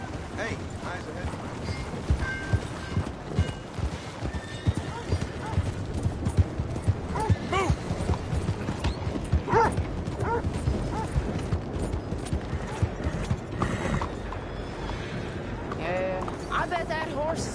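Horse hooves clip-clop steadily at a gallop in Red Dead Redemption 2, loud and close, running the whole stretch beneath voices talking, with mechanical rattles and an occasional whinny.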